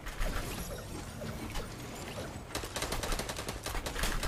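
Drum gun firing in the Fortnite video game: a sustained rattle of rapid shots runs through the whole stretch, growing denser and louder in the second half, with no voices over it.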